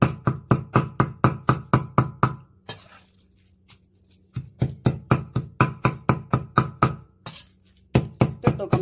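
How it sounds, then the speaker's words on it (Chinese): A cleaver chops rolled-up pork for a chive and pork dumpling filling in fast, loud, steady strokes on a board. The chopping stops briefly twice before picking up again. "將啲豬肉咧係咁捲住嚟剁啊"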